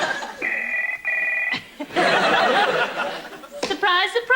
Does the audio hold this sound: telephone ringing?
yes